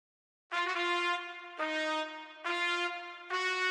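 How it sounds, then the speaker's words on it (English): Bright synthesized brass trumpets from a UK drill beat produced in FL Studio, four punchy sustained chord stabs in a steady rhythm, loud and upfront with rich harmonics and no voices. "at the end of the song, you can hear some trumpets that sounds like this"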